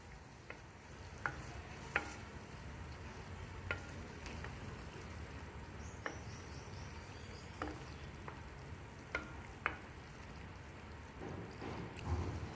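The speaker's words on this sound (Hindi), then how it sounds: "हुण मैं गोश्त पावांगी। गोश्त की अच्छी तरह बुनाई करांगी।" Beef for pulao fries and is stirred in a pot with a soft steady sizzle. A spoon knocks against the pot in scattered sharp clicks.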